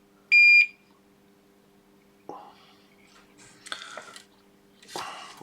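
A Hakko-style soldering station gives one short, sharp high-pitched beep near the start; a few quiet handling sounds and soft breathy noises follow in an otherwise quiet room.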